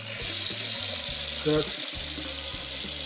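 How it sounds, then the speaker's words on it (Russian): A sink faucet in a wooden country house runs steadily with a bright, continuous hiss of flowing water. Someone speaks briefly over it. "работает кран в раковине"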